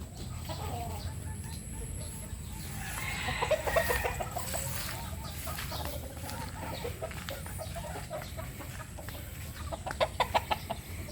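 Native and Bulik gamefowl roosters and hens cluck at moderate distance, with scattered sharper bird calls and brief louder bursts near the end over a low, steady background.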